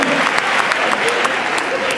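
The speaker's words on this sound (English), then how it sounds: "I know I'll get some applause out of that one." An audience applauds during an educator's talk, dense steady clapping that fills the whole short stretch at a close, loud level.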